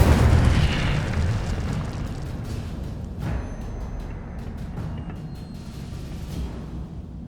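Incendio fire spell cast in Hogwarts Legacy, a loud booming burst of flame that opens forcefully and then trails into a long rumbling, crackling roar that slowly fades, no talk.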